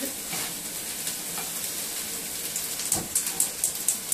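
Food simmers and sizzles in pans on all the stove burners, a steady close crackling hiss with some sharper spits and pops building near the end, no talk.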